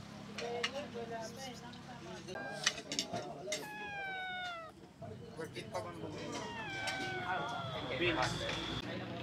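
A cat meows repeatedly at a café in Bulacan, with several drawn-out, rising and falling cries close by while people talk over a busy background.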